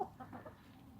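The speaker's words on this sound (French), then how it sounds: "sont toutes déplumées et tout, c'est mes poules à moi." Backyard hens, some of them patchy and scruffily feathered, give a brief burst of soft, close clucking.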